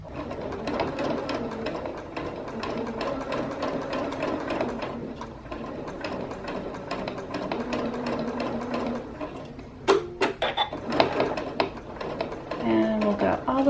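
A sewing machine stitches knit fabric in a steady, close mechanical whir that runs almost continuously, with a few short pauses and clicks near the end as the needle and presser foot are lifted.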